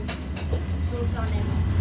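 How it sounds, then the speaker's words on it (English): An Istanbul tram between Taksim Square and the Grand Bazaar rumbles steadily with a low mechanical drone and faint rattling, while people talk nearby over the noise. "This is the local tram."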